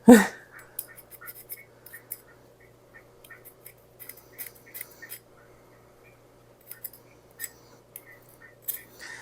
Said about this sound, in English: No matter what I'm baking with cocoa powder, I always sift it.